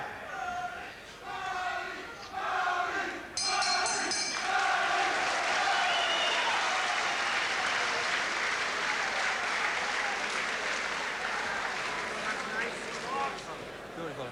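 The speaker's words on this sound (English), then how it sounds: "The crowd encouraging now O'Malley to step in." A 1988 bantamweight boxing match crowd cheers and applauds in an arena, a broad roar that swells and holds steady, with a commentator talking over it at first and sharp ringside knocks early on.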